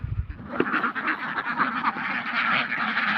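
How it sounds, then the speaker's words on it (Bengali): Farm ducks at a wetland duck farm in Sirajganj quack in a busy overlapping chorus while they eat feed. The calls are close and continuous, with some low thumps at the start. "হাঁসগুলো খাদ্য খাইতেছে,"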